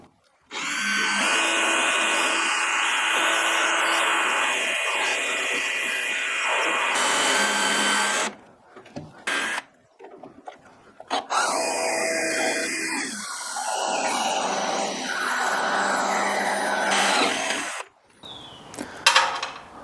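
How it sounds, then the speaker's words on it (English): A power drill whirs in long sustained bursts, drilling bolt holes for a fuel tank install on a GT40 kit car, pausing briefly between holes, loud and close with some clatter in the gaps. "drill out these holes and then put the bolts in"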